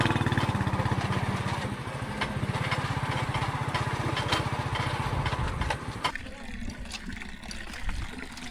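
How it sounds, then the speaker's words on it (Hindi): A motorcycle travels over a broken, potholed village road, its engine throbbing steadily and loudly with rattles and bumps; the engine note drops away near the end as other noises continue. "तो इस वक्त बाइक के ऊपर सफ़र कर रहे हैं।"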